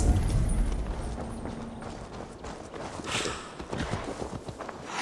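Horse hooves clip-clop in Assassin's Creed Valhalla, a quiet, uneven walking patter of hoofbeats over a soft game ambience with no talking.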